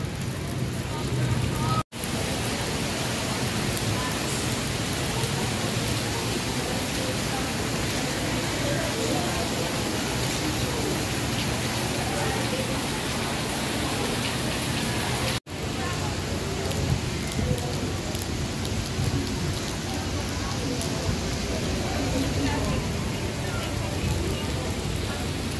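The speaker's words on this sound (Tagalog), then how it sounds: "Yan, umulan na po. Nabutan na tayo ng ulan." Steady rain falls at a riverside esplanade construction site along the Pasig River, making an even, continuous hiss that lasts throughout.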